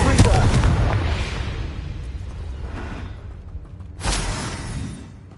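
In Hogwarts Legacy, the Confringo fire spell detonates in a loud, booming explosion that fades into a rumbling tail, followed about four seconds later by a second, softer blast.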